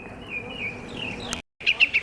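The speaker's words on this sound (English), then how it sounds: "Listen to him. What a bird. Ooh, he's calling his mate." A bird calls from a nest high in a treetop outdoors, a sustained thin whistling call followed after a brief gap by three short chirps repeating in quick rhythm, close and clear over quiet background.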